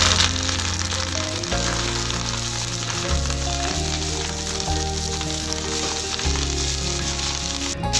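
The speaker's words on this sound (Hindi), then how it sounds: "अब इसमें ऐड करने जा रही हूँ मिर्चें, लाल कटी मिर्च" Red chillies and mustard greens frying in oil with garlic in a pan, a loud, constant crackling sizzle close up, with occasional stirring knocks from the pan.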